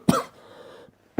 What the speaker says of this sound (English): let me just make this quick statement since I was coughing